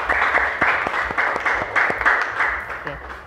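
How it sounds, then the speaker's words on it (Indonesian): A classroom group of students applauds a group presentation: a steady wash of many hands clapping, close and even, with individual claps standing out rhythmically and no pauses. "Kita kasih tepuk tangan yang meriah untuk kelompok 4."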